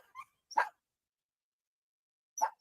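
A dog barks at home: a few short, sharp barks, one small yip followed by two clear barks about two seconds apart, near and alone in silence.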